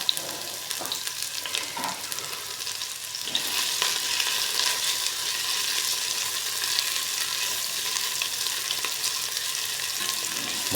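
Ginger and onion sauté in hot oil for a simple shrimp dish, a continuous close sizzle that swells louder partway through, with occasional stirring clicks and no talking.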